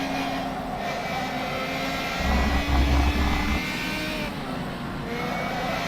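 Racing car engine in a sim racing game at Lime Rock, a steady loud drone held in gear with a brief deeper surge as the throttle opens midway, continuous throughout.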